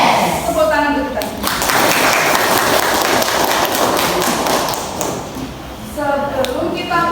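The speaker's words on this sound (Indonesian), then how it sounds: "Tepuk tangan dulu kita." A classroom of young grade 1A pupils in a Probolinggo teacher-training open class breaks into a burst of clapping lasting several seconds, the dense patter swelling loud and close between a speaking voice at the start and end.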